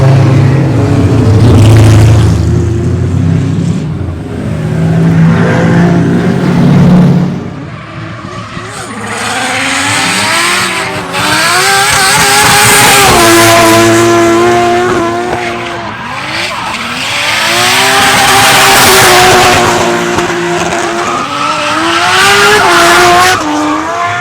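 Loud race car engines rev and scream as Japanese cars drift at a grassroots drift event, with tire squeal and rising, falling engine pitch throughout, close and continuous.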